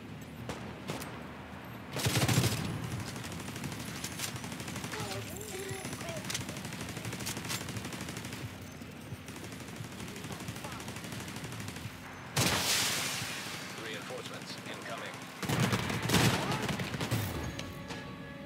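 A deployable turret skill fires in the shooter video game The Division 2, with rapid automatic gunfire throughout and louder bursts at intervals, mixed with game effects at moderate loudness.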